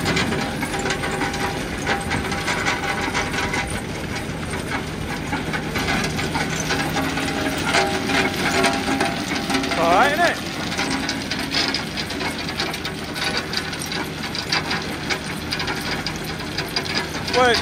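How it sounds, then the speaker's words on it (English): A conveyor belt folds down on a stone trailer hitched to a JCB, giving a steady ratcheting, geared mechanical churn with hiss and occasional squeaks. The machinery runs continuously at moderate distance, and faint voices come and go. "There we go, it's the belt folding down."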